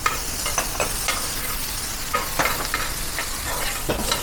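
Onion and green chili fry in a pan of oil with garlic for an Indian tikka masala, giving a loud, close, steady sizzle with occasional stirring scrapes and no talk.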